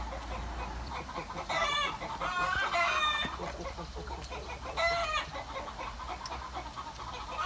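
Chickens near a campsite fire area cluck in several loud, excited bursts of rapid, squawking calls, separated by quieter pauses with low background rumble, close to the listener.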